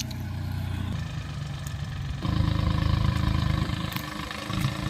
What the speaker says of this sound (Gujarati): વીએસટી બસો પચીસ છે ટ્રેક્ટર ફોર વ્હીલ ડ્રાઈવ